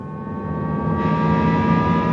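A synthesized acceleration tone for a Jaguar I-Pace electric car rises smoothly and steadily, layered with steady harmonic lines over a low road rumble and growing brighter partway through. No talk is heard.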